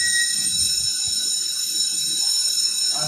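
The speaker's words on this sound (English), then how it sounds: "stop alarm" A Python-built Jarvis voice assistant sounds an alarm: a steady, shrill electronic buzzing tone holds loud and unbroken throughout, with a faint low rustle near the start and end.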